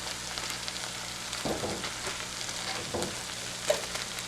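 Shrimp reheating in a hot pan give a steady, close sizzle and fry, with a few brief stirring scrapes breaking through the hiss.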